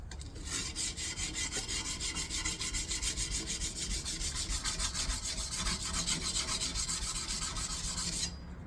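Sandpaper wrapped on a wooden stick rubs steadily back and forth along a san mai kitchen knife blade, a continuous rasping scrape with a fast regular stroke rhythm, close and alone.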